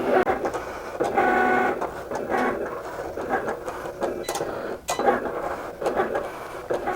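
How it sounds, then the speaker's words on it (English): A Cricut cutting machine slices an infusible ink sheet on its mat, giving off bursts of whirring motor travel and rhythmic buzzing carriage movements with brief clicks and pauses, heard up close. "press the flashing cut button. Yeah, it's just cutting it out now."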